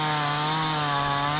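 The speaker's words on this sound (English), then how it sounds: "people are showing up with chainsaws" A chainsaw cuts wood during storm cleanup on a golf course, its engine holding one loud, steady, buzzing drone throughout with no talking.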